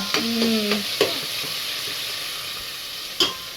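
Tomato and onion fry in a pan as a tempering for a family meal, with a steady sizzle under several sharp spoon clinks and stirring scrapes.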